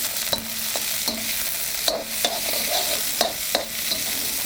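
Vegetables fry in oil in a pan, stirred with a utensil: a steady sizzle is broken by several sharp scraping strokes at irregular intervals, close and fairly loud, with no talking.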